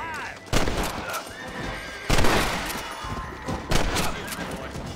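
Gunfire in the Western video game Red Dead Redemption: three sharp, loud shots spaced about a second and a half apart, each ringing out over horses whinnying and hooves clopping nearby.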